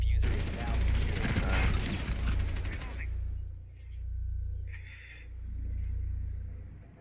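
A Kapkan trap detonating in the video game Rainbow Six Siege, a loud crackling burst lasting a few seconds followed by low rumbling and faint game sounds.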